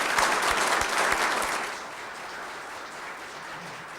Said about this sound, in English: So I applaud you people.